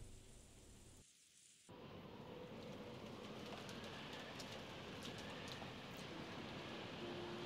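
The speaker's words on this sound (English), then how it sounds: "The outside really looked like a typhoon, and rain was pouring down spectacularly." Heavy rain pours down steadily in the Umineko video game, a dense, loud hiss that cuts out briefly near the start and then continues unbroken.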